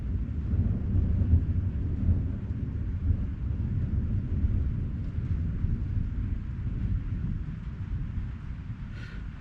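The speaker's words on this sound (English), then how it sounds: "I don't know if y'all heard that, but storm's moving" Thunder from an approaching storm rolls as a low, continuous rumble lasting several seconds, moderately loud and distant, with wind buffeting the microphone.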